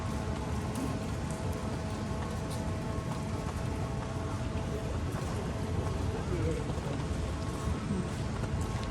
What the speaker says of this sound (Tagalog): Umuulan talaga.